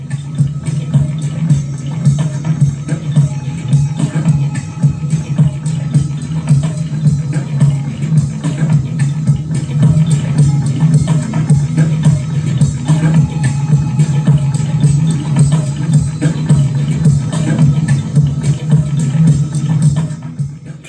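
Layered electronic kick, snare, shaker, drone and synth parts play together as one dense, steady loop at full volume for about twenty seconds, with no voices.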